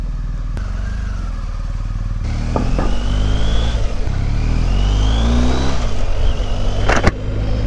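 A BMW 1250 GSA motorcycle engine idles close by, then revs and accelerates as the bike rides off, engine note climbing steadily with loud, continuous rumble and a sharp click near the end.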